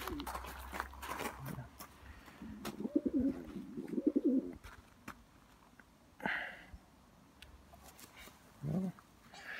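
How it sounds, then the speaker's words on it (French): Small pigeons coo in low, soft bursts, a couple of short warbling coos close by amid quiet rustling, with occasional speech nearby. "C'est des petits pigeons."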